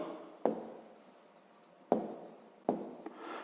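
A pen writes numbers by hand on paper during a sixth-grade maths exercise, with short scratchy strokes and three sharper taps, close and alone in a quiet room.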